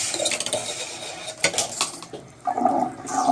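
Dirty rinse water sloshing and pouring out of a brass trombone bell during cleaning, with metallic clinks and splashes in short uneven bursts, close and fairly loud.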